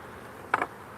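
A single short buzz of a honey bee passing close by in a bee yard during a hive inspection, rising and fading within a fraction of a second over a quiet outdoor background.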